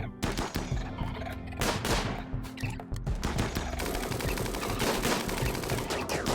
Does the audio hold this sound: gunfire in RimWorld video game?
yes